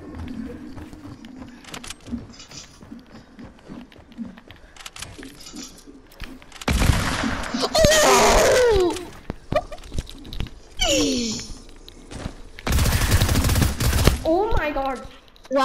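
Bursts of gunfire in the video game Fortnite come in loud, dense volleys around the middle and near the end, mixed with game effects and a voice speaking over the action.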